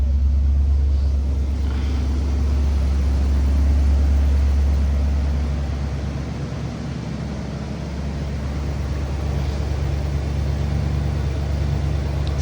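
A 1975 Buick Electra 225 engine idles steadily, a loud, continuous low rumble close by that holds even throughout with no voices.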